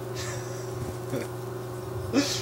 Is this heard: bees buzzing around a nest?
yes